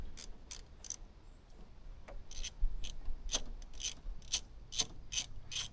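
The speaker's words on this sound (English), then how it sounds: "And now we'll torque that down." A wrench torques down a bolt on a Ghost motorcycle, giving a rapid series of crisp ratcheting clicks in short bursts, close and fairly quiet, with light metallic rubbing between strokes.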